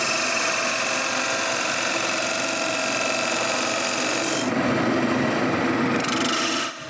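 Wood spins on a lathe as a modified carbide-tip turning tool scrapes it, giving a continuous coarse, close rasping hum that shifts in tone near the end before stopping.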